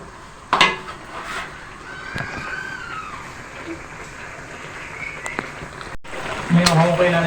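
Cassava leaves being stirred in coconut milk in a cooking pot, with scattered metallic clinks and scrapes of a utensil against the pot, sharper knocks near the start and end over a soft background hiss.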